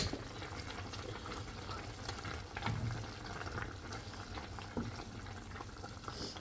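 A pot of beans and water bubbles at a steady rolling boil, a continuous soft gurgling hiss with occasional louder pops, close by.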